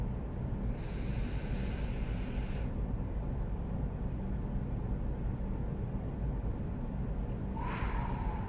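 A person doing a paced breathing exercise, with a long airy inhale near the start and another rushing breath at the end, both close over a constant windy hiss.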